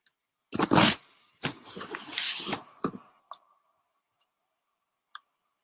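A few sharp computer mouse clicks, isolated and fairly close, follow a stretch of busy talk and scraping, with one lone click near the end of an otherwise quiet pause.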